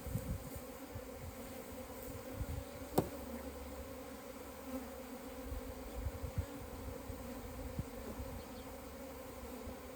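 Honeybees hum in a continuous low drone during a hive inspection, close and steady, with a single sharp click and a few light handling knocks.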